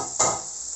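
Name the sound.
stirring liver in a pan with oil and spring onion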